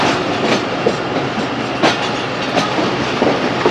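Six-coach Sialkot Express passenger train rolling on the Lahore to Sialkot line, a loud, close, steady rumble with rhythmic clickety-clack wheel beats and no voices.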